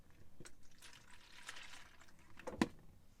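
Half a pint of milk poured for Yorkshire pudding batter in a camper van kitchen makes a soft, brief liquid trickle ending in a sharper splash, close and fairly quiet.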